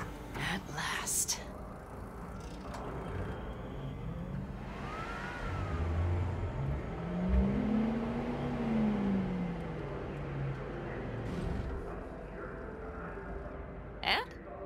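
Car driving in Cyberpunk 2077, a steady engine drone with rising and falling pitch sweeps across the clip, mixed with game ambience and brief sharp bursts near the start and end; a voice talks over it at times.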